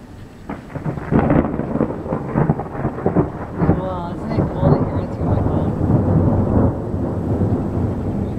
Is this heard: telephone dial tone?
no